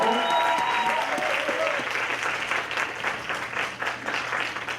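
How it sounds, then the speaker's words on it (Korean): An audience claps together at a mentoring talk concert, a dense, sustained burst of applause that begins loud and gradually thins, with brief voices and whoops at the start. "본격적으로 박수 치면서 출발해 보겠습니다"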